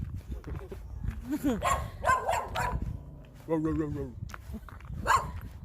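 A dog barks and yips in short bursts on a Jamaican beach outing, fairly close, mixed in with a person talking and whimpering dog sounds between barks.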